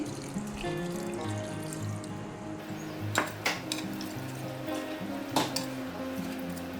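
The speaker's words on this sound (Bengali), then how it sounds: "আমি অল্প একটু জল দিচ্ছি" Water splashes into a cooking pot of chicken biryani at close range, a steady running pour with a couple of clanks of utensils against the pot midway, no talking.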